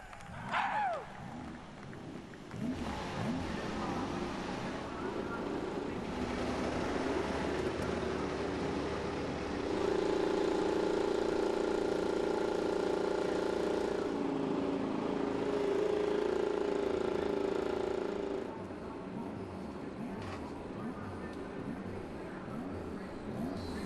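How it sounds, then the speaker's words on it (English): IndyCar single-seat race car engines fire up on the grid at Mid-Ohio for the Honda Indy 200, a dense, steady roar of many engines with rising revs that surges louder midway and then eases slightly. "Drivers, start your engines!"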